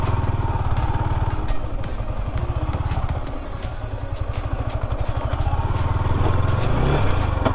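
Motorcycle engine labouring while riding through sand on a foggy hill morning ride, the rear tyre losing grip; a loud, close, continuous throbbing putter with rising and falling revs and light clatter, no talk.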